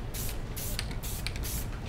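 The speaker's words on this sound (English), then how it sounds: "We'd want something that is a web spray." Web spray adhesive hisses from an aerosol can in several short bursts while a sweatshirt is prepared for screen printing with white ink, close and fairly quiet.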